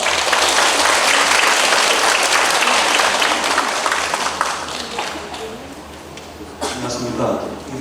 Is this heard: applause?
yes